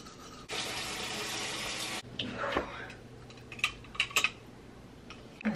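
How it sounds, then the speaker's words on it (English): Toothbrush scrubbing teeth with Crest 3D White Radiant Mint toothpaste, close bristle rasping after a burst of running tap water, with short scratchy strokes and small clicks. "So I just brush my teeth gently with those harder bristles"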